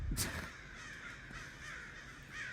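Crows caw loudly in a backyard setting where a neighbor feeds them peanuts, giving a sharp call followed by a stretch of overlapping harsh caws at moderate distance with no voices.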